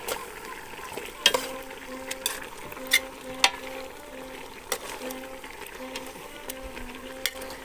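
Sliced ginger and garlic stirred into a pot of pork curry in a home kitchen: soft scraping and clacking of a utensil against the pot recurs every second or so over a low, steady sizzle.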